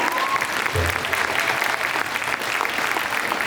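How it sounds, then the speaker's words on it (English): Dense, steady applause from an audience greeting a Golden Jubilee couple as they come to the stage, a continuous wash of many hands clapping at an even level throughout. "Come on, guys, big round of applause"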